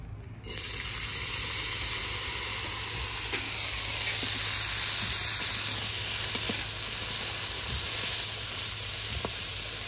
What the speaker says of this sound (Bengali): ডুমুরগুলোও ভেজে নেব।